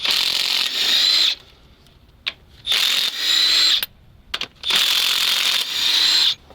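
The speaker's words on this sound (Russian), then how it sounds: "Коллектор отсоединили, откручиваем головку." A ratchet wrench loosens the cylinder head bolts on a ZIL engine pulled from a sunken truck, rattling in three long, loud, rapid bursts with short clicks between them, up close.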